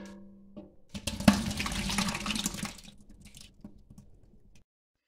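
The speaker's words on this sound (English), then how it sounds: "I'm just going to fill it with water and I'm going to set it aside so I can thin it out" Water runs from a tap into an emptied salsa jar, a loud gushing pour lasting about two seconds that tapers off into a few small splashes and drips before falling silent.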